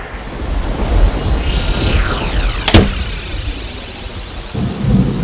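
Heavy rain pours in a dense, continuous hiss with low rumbling beneath, swelling and easing slightly, while a sharp crack cuts through midway.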